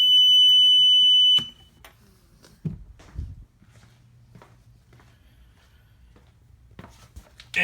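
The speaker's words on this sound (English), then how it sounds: "Now let's shut off the alarm." A boat's warning alarm beeps as a loud steady high tone for over a second, then cuts off, leaving faint clicks, knocks and handling noises nearby.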